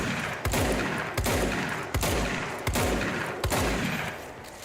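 A shotgun fires in the game Control with five heavy, booming blasts spaced roughly evenly about a second apart, each one close and loud with a short decaying tail.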